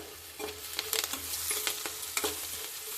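Okra sizzles steadily while frying in a pan, with a series of short scraping stirs as the spatula moves through it; close and moderately loud, with no voices.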